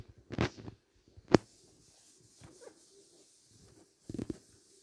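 A dog in a video game gives a few short, faint barks or yips in separate bursts, with near silence between them.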